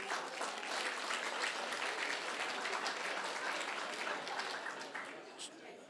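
A comedy club audience gives a steady round of applause, dense clapping that holds evenly and then thins toward the end, with a few voices mixed in.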